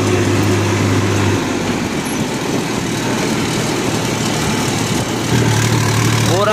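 Fully loaded tractor pulling a trolley, its engine running loud and close in a steady low drone that carries on without a break.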